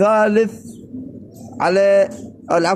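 A racing pigeon coos close by in short repeated throaty bursts separated by brief pauses, with no talking.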